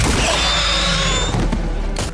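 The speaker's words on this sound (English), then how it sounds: "A team member seizes the opportunity to shoot it" Gunshots are fired at a spider monster in a movie army scene, a dense, loud, sustained barrage of booming blasts that fills the whole moment, with a sharp burst near its end and no talk.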